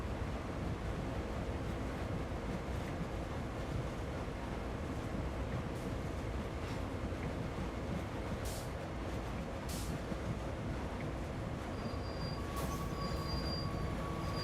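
Freight train with refrigerated reefer cars rolling past in Train Sim World, a steady broadband rumble and clatter of wheels and wagons with a few faint high squeals, continuous and fairly distant, no talk.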